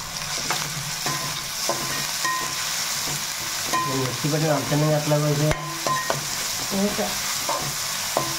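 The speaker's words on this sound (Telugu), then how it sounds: "చూడండి, ఉల్లిపాయలు కూడా వేసుకున్నాం ముక్కలు." Thinly sliced onions frying in a pan for a Telugu-style fish curry, with steady sizzling and repeated stirring scrapes and clinks of a utensil throughout, close and continuous.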